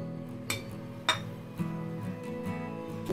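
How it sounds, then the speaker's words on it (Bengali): A lid lifted off a covered pot of semolina: a few distinct metallic clinks and taps, one near the start and a sharper ring just after, then quieter knocks over a faint background hum, heard close without speech. "10 মিনিট পর ঢাকনাটা খুলছি।"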